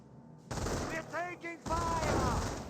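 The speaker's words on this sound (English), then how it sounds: "MG42 fires away" An MG42 machine gun in the WWII strategy game Company of Heroes opens fire in loud sustained bursts, broken by a brief pause, with a voice briefly audible beneath the clatter.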